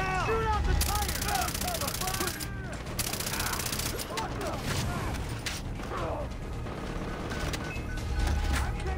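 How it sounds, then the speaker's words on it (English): Far Cry 3 gameplay with bursts of automatic gunfire and mechanical clatter among chaotic in-game action sounds, with a few short voice shouts mixed in. "Shoot out the tire!"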